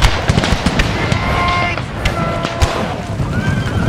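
Infantry musket volleys in the battle game Empire Total War with an American Civil War mod, dense crackling shots popping in rapid irregular bursts, loud and close, amid battlefield clamour with some voices.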